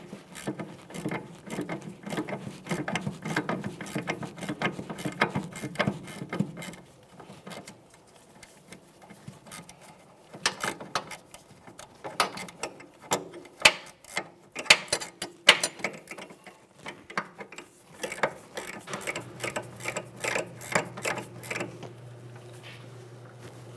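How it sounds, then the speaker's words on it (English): A socket and ratchet tightening the rear strut mounting nut on a 2003-2007 Honda Accord, with a long run of rapid close ratchet clicks, then quieter scattered clicks and metallic clinks, no talking. "we'll be holding the center of the shaft with that 3/16 Allen head socket and tighten the nut"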